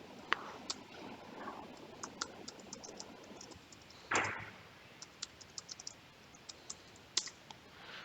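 Quiet, close clicking of keys on a computer keyboard as a password is typed at a Linux terminal, a short run of sparse, irregular taps with one firmer keystroke midway, over faint room hum, no talk.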